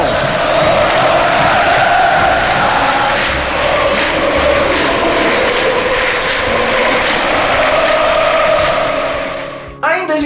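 Coritiba football supporters chant together in a packed stadium, a dense, loud roar of massed voices sustained throughout, fading abruptly near the end.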